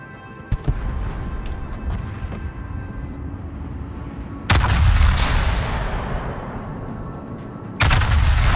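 Naval artillery from the battleship Yamato in the video game World of Warships, with deep booming salvos that hit suddenly, ring out in long rumbling decays, and then boom again, loud and heavy.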